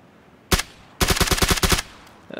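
Gunfire in the video game Sneaky Peaky: a single sharp shot, then a rapid burst of about nine loud automatic rounds in quick even rhythm, close and prominent.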